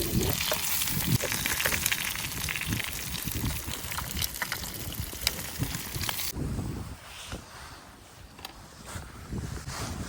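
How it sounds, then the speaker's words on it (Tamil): Sea fish fries in hot oil with a loud, dense, continuous sizzle that drops noticeably quieter partway through, heard up close with no talking. "ஃபிஷ்ஷும் ஃப்ரை ஆயிடுச்சு"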